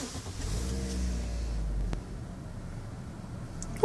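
A Toyota Corolla SX sedan's engine starts by push button, cranking and catching into a brief rev that settles to a quiet, steady idle heard from inside the cabin.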